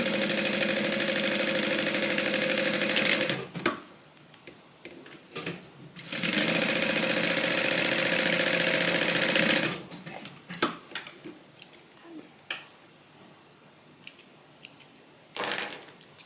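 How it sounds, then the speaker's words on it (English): A sewing machine runs in two long stitching bursts, tacking down the edges of a handmade Bible cover, followed by short clicks and handling noises as the fabric is repositioned. "I'm going to sew these edges down. So I'm going to sew along this side, come up, sew along that side."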